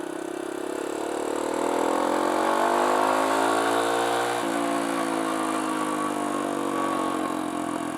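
A Kawasaki KLX170 dirt bike, a big-bore rebuilt KLX140, runs steadily close by, its engine note rising and then settling into a sustained drone with a slight mechanical clatter and no voices.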